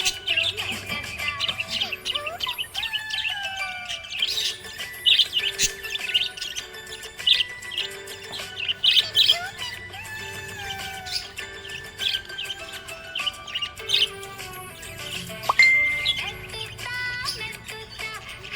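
A budgie chirps happily and continuously, with rapid high tweets, warbles and short whistles at a steady moderate level, close and alone without talk.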